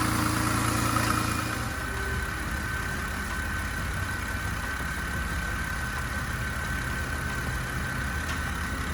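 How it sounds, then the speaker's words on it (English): A Jeep JK engine idles steadily after maintenance, a smooth, even low rumble that holds without stumbles or surges, close by and on its own. "Engine sounds nice and smooth."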